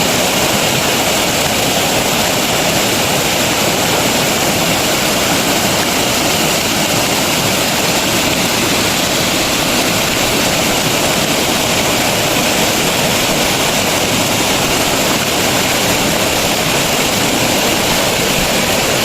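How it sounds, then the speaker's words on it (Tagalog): Strong, steady rushing of a mountain stream in Balagbag under heavy rain, a dense broadband roar of high-pressure water that stays loud and unbroken throughout. "Ay, malakas yung pressure ng tubig."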